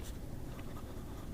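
Quiet, close scratching from a smooth, very wet fine Hongdian D6 fountain pen nib moving across paper, with one short stroke standing out near the start and no voices.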